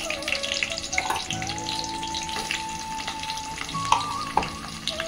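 Sliced onion and curry leaves frying in oil, a steady crackling sizzle with stirring scrapes and a few spatula knocks, and a faint background tone running underneath.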